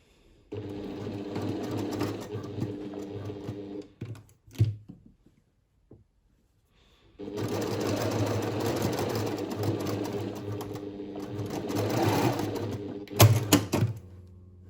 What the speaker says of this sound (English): Sew across there with a 1 centimeter seam allowance.